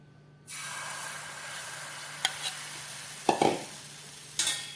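A sudden hiss starts as besan batter hits an oiled hot griddle, then steady sizzling continues as it is spread thin, with a few light scrapes and clicks on top.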